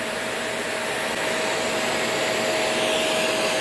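Upright vacuum cleaner running with both its bristle brush and polisher engaged, a steady loud whooshing roar with a constant high whine and no pauses.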